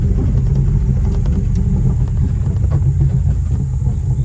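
Jeep Wrangler JL Rubicon 392 with 3.73 gears rolling off-road in four-wheel high, a steady loud low engine and drivetrain rumble with faint scattered knocks from the terrain, no talking.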